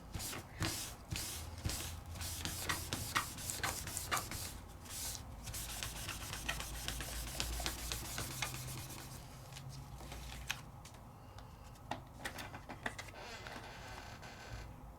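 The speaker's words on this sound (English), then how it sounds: "as I'm buffing, all that extra ink is coming off of the foil" Buffing extra ink off the foil of a pre-foiled card, heard as rapid close rubbing strokes in an irregular rhythm, loud at first and then easing into lighter, sparser scuffs near the end.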